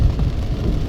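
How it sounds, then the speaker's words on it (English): Hard rain pours onto Las Vegas roads, a loud, dense, steady hiss and wash with a low rumble beneath, heard close and continuous for about a second. "it's often a very good hard rain"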